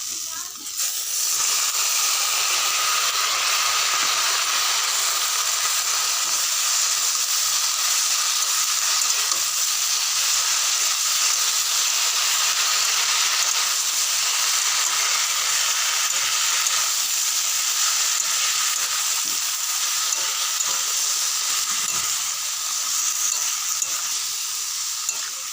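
Spinach cooking in a pan, giving a loud, steady sizzle and hiss of steam that holds evenly with little change throughout.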